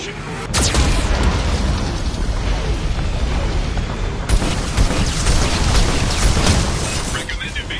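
Heavy, continuous booming blasts from a Geth cannon in the game Mass Effect 2, a dense, loud roar of explosions and rumbling debris with sharper bursts partway through.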